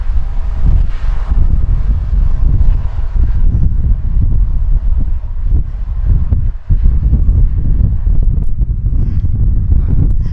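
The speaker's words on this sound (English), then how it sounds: "it's pretty windy up here." Strong wind roars and buffets continuously on a mountain, with loud low rumbling gusts battering close by and no other clear sounds.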